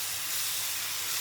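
Vegetables frying in a pan as a new style of home dish, giving a steady, even sizzling hiss throughout with no pauses or talk.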